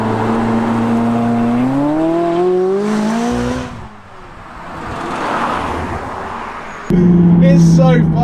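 McLaren 570GT supercar engine accelerating on a road, revs climbing through rising pitch, easing off, then a fresh loud surge near the end, with a voice talking in the cabin.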